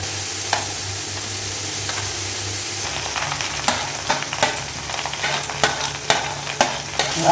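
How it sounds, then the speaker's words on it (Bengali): Grated carrot fries in a pan for carrot halwa, a steady sizzle broken by repeated scraping and knocking strokes of the spatula as it is stirred, close and fairly loud with no voices. "গাজরটাকে খুব ভাজা ভাজা করে নেবো"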